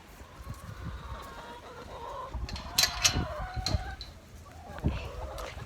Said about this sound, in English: Here, I'll give you a good view of our chickens.